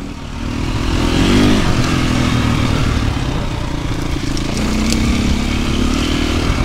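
Loud motorcycle engine running steadily as the bike rides along, revving slightly up and down with some rattling, no talking.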